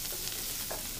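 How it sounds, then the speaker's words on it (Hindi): Mushrooms and garlic sauté in a pan of olive oil and butter, a dense, steady sizzle heard up close and at moderate loudness, with no talking over it. "अब मशरूम सौते करने के लिए हम पैन में थोड़ा सा ऑलिव ऑयल डाल रहे हैं, थोड़ा मक्खन डाल रहे हैं"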